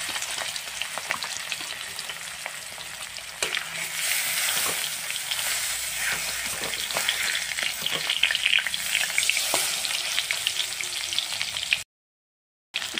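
Fish pieces laid one by one into hot oil in a wok sizzle and crackle continuously, with steady frying hiss and occasional sharper pops, close and loud, with no talking.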